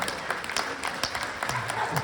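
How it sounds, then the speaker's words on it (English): An audience at a comedy hypnosis show during a women's VFW conference claps and applauds loudly and continuously, with brief voices mixed into the crowd noise. "Give her a big round of applause."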